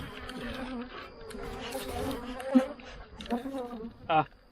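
A dense, steady buzz of many Bee Weaver bees droning close by at their hives, rising and falling slightly, with a few individual bees zipping past.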